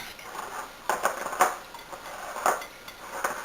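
Muffin batter for Easter beet muffins being whisked in a bowl, with light clinking scrapes of the whisk against the bowl in an irregular rhythm, close and fairly soft, no talking.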